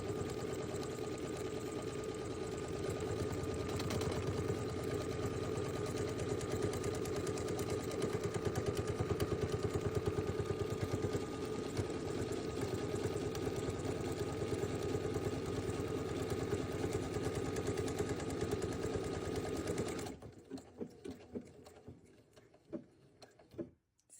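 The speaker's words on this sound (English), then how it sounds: "let this run its complete set of stitches, and then when this needle drops down a couple times, then you know it's done" A sewing machine stitching a buttonhole runs steadily and fast for about twenty seconds, a continuous whirring clatter, then stops, leaving a few faint needle drops and clicks.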